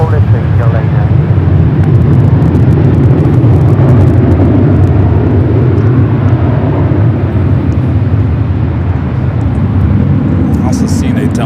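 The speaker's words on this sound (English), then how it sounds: "Also seen a Delta 767 400 ER heading up here." A Delta Boeing 767-400ER jet at LAX, a loud continuous roar of the engines throughout, with voices talking over it.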